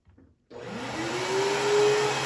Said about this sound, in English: I'm going to turn my vacuum on.